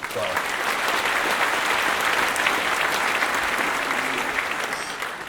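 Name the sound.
applause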